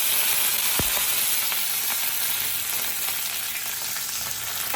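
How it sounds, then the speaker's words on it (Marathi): Green chillies crackle in hot oil with mustard seeds, giving a steady, loud, close sizzle with a brief pop near the start and no talking. "मोहरी नंतर मिरची घालूया आपण दोन मिरच्या घातलेल्या आहेत"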